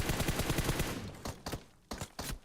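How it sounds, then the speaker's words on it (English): Rapid automatic M16 and M4 gunfire in a video game bounty hunters match, first as a dense burst of shots, then as several separate short volleys, loud and close. "Sounds like an M16 versus an M4 fight we got going on right now"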